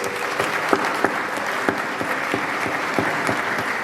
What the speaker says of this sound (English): Please, a resounding round of applause.